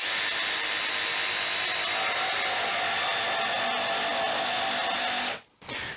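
An Einhell TP-JST 18/135 Li BL brushless cordless jigsaw cuts a 2 cm wooden board by hand at full speed with a loud, steady, buzzing whine that cuts off sharply near the end. No one speaks.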